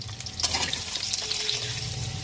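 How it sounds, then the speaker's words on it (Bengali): Mustard oil sizzles steadily as potatoes fry in a pan, a continuous close hiss with a few brief clatters of stirring. "এবার আমি আলুগুলো ভেজে তুলে নেব"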